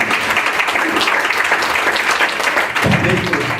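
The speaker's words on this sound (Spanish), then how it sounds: "Denle un aplauso al Señor," A church congregation applauds loudly and continuously, with dense clapping throughout and a voice briefly audible beneath it.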